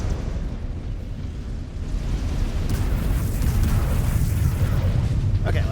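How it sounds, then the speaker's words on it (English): An incoming missile strike rumbles through a MechWarrior 5: Clans battle, building into a heavy, continuous explosive roar with a dense low-end boom and scattered crackling bursts, under faint radio chatter. "Incoming missile."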